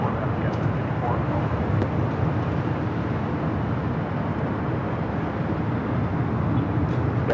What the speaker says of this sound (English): United Dreamliner taking off 25 right